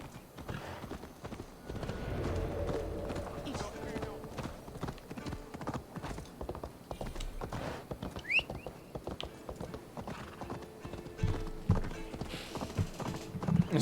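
Horse hooves clip-clop steadily at a riding pace in a Viking-era video game, with a horse whinny and game voices speaking over the hoofbeats throughout.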